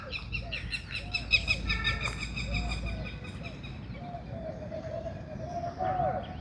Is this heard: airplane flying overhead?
no